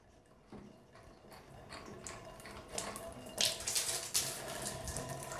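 A 23 mm wrench loosens the inlet and outlet fittings on a water heater while it is drained, producing close metallic ratcheting clicks that build over running water.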